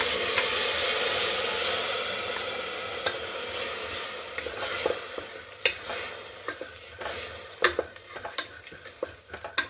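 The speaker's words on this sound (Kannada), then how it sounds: "ಈರುಳ್ಳಿ ಫ್ರೈ ಆಗಿದೆ. ರುಬ್ಕೊಂಡಿದ್ನಲ್ಲ ಅದು ಪೇಸ್ಟ್ ಹಾಕ್ತೀನಿ." Onions fry in a pan and ground masala paste goes in, starting with a strong continuous sizzle that gives way to a quieter hiss broken by repeated scraping and stirring clatters close by.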